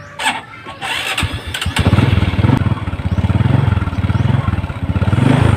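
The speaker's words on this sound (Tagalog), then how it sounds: "nag-start na siya. Okay na ang kanyang starter motor" A starter motor cranks with a few clicks before a motorcycle engine catches and settles into a loud, rhythmic, pulsing idle close by.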